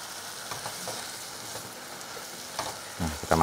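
Mushroom and celery mixture with onion stirred in a pan for potato-mushroom bitterballen, a steady sizzle under scattered scraping strokes that grow louder and busier near the end.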